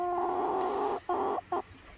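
Barred Rock hens cluck close up inside a chicken coop: one drawn-out, throaty call followed by two short clucks, with no other voices.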